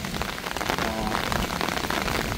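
Steady rain falls on a farm field, a dense, even hiss of drops close by that carries on without pause.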